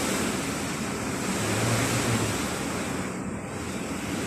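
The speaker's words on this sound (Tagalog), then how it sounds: "Ang lakas guys, ang lakas ng ulan, ang lakas talaga lahat ng hangin." Constant roaring typhoon wind with heavy rain noise in the Philippines, buffeting the microphone in a dense, unbroken wash of sound.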